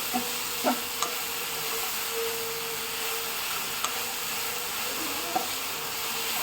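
Jaggery and ghee, with plantain for a homemade snack, are stirred in a pan as the jaggery melts, a soft steady hiss and sizzle broken by a few light utensil taps, close and without talk.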